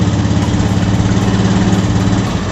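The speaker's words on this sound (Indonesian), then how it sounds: "Perhatikan suara mesin." A car engine idles steadily up close, a loud, even rumble with a faint rhythmic pulse and no talking.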